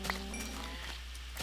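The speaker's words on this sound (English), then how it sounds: "In case you're wondering why I'm killing random cows" A cow lows in Minecraft while being killed, a short game-style bleat-like moo heard once over a low steady hum, fairly faint.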